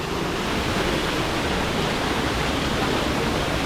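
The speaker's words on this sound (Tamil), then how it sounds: "சின்ன சின்ன வாட்டர் ஃபால்ஸ்லாம் வந்து ஊற்றிட்டு இருக்கு." Small waterfalls pour near a living root bridge in a forest after two days of rain, a steady, dense, loud rush of water with no breaks.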